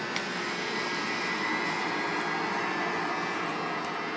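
A Thyssenkrupp hydraulic elevator in a parking garage runs its motor, a steady, even drone with a constant hum and no talk.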